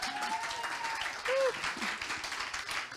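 A conference audience at the ISTO 2021 gathering applauds a speaker, a steady patter of clapping with faint voices and brief tonal sounds mixed in.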